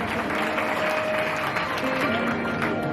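An audience claps at a live Gujarati folk music program by Rajbha Gadhvi and Hakabha Gadhvi in Vadodara jail. The clapping is dense and steady the whole way through, with faint tones and voices underneath.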